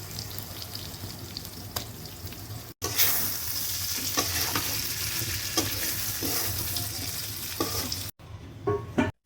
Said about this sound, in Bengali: তারপর কেটে রাখা ইলিশ মাছ ছেড়ে দিয়ে আবার নাড়তে হবে।